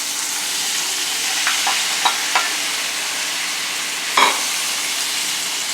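Tomatoes sizzle and fry steadily in garlic oil in a pan over medium-low heat, with a few soft scraping clicks of a spoon stirring them; an even, close frying hiss runs throughout with no talking.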